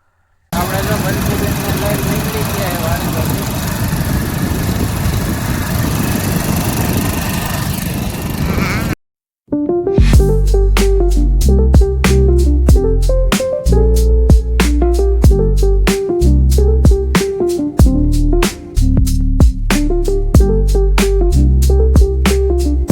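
A tractor drives a rotavator. It starts with a dense grinding roar, cuts out briefly, then settles into a loud, rhythmic engine chug with sharp repeated knocks and a steady low drone.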